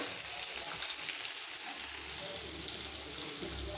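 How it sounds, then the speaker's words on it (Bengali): Food fries in a pan with a steady, fairly quiet crackling sizzle that runs unbroken throughout, with no voices. "তো এটা একটু ভাজা ভাজা হোক"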